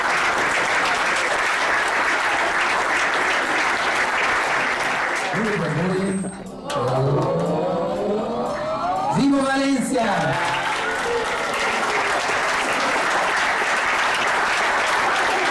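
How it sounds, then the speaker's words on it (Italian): Audience applause fills an award ceremony, a steady roar of many hands clapping that dips briefly midway while a man calls out and voices rise over it, then swells again. "Grande applauso, professore Amici."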